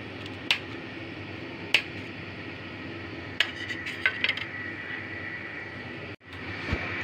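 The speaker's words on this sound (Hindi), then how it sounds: "इन्हें अब मैं पीसेज में काट रही हूँ।" A knife cuts hot boiled gatte into pieces for Rajasthani gatte ki sabji, making a few sharp, separate taps against a board over a faint steady background hum, spaced irregularly, with no voices.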